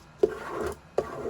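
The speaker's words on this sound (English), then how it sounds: "I'm gonna use my handy dandy Cricut scraper." A Cricut scraper tool is drawn firmly across vinyl on a TableMate Elite work surface, making two short scraping rubs, each starting with a sharp onset and trailing off, heard up close with no talking.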